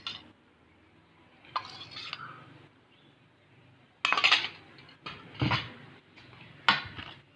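A spoon mixing garlic powder and lemon juice into a marinade in a bowl, heard as quiet scraping punctuated by several sharp clinks of metal on the dish, close up with no voices.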